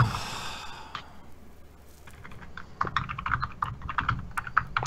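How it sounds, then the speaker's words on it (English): Typing on a computer keyboard, a quick run of close, crisp clicks that grows denser and louder partway through, with a faint sigh near the start and no one talking. "How loud is that keyboard, by the way?"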